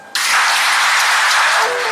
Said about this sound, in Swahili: ningeomba kwamba tuwapigie makofi